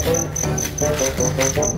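Crickets caught by children in a home garden chirp in a fast, regular pulsing trill, bright repeated notes close by, with faint rustling underneath and no talking.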